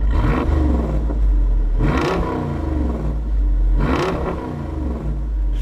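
The 392 V8 in a Jeep Wrangler rumbles at idle with a deep, heavy growl, then flares into two strong revs that rise and fall, loud and close.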